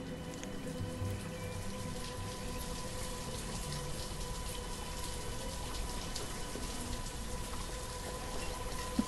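Steady rainfall in the Banished city-building game, a continuous soft patter of drops at low volume throughout, with no voices.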